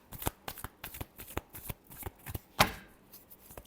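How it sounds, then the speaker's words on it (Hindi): Tarot cards riffled and shuffled by hand in a rapid series of crisp, close flutters and snaps, with one louder riffle near the end and no talking. "Last shuffle."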